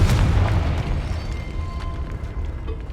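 Confringo blasting spell from Hogwarts Legacy gameplay on PC: a loud, deep booming explosion bursts at the start and rumbles away over a few seconds, with faint crackling debris trailing behind.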